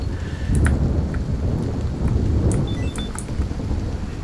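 Thunderstorm in the Alien Dawn video game: steady rain hiss with low rumbling thunder throughout, a few faint electronic beeps and crackles near the end, no talking.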